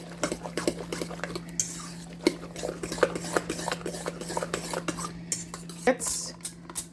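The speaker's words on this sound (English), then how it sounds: "Give this another mix to get the spices incorporated" A utensil stirs spices into a frittata vegetable mixture, scraping against a bowl, with irregular clinks and soft taps over a low steady hum.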